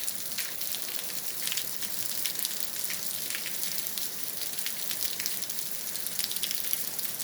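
Steady heavy rain falling during a moderate-to-strong thunderstorm in Capestang, a dense, even hiss of drops close by that never lets up, with no thunder or voices.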